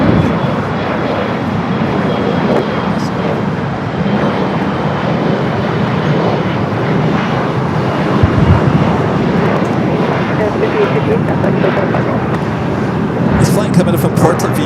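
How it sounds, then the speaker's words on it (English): An American Airlines Boeing 737-800 crossing a runway at LAX, a loud, steady jet-engine roar that holds constant throughout with broad rumbling texture. "flight 1133, 737-800 of American now crossing over"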